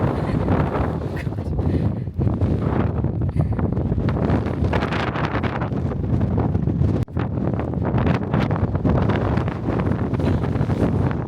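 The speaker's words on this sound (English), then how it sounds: "Oh God, it's windy" Strong wind buffets the microphone in loud, continuous rumbling gusts in Edinburgh, Scotland, with no letup for the whole stretch.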